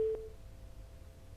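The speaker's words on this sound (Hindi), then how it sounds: "फोन फिर कट गया है" Phone call disconnected tone: a brief steady electronic beep at the start, then faint low background hum, quiet and alone with no talking.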